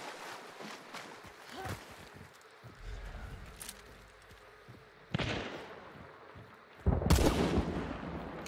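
Gunshots ring out in a Hunt: Showdown match, several sharp reports scattered over noisy background, with the loudest, closest blasts landing near the middle and the end.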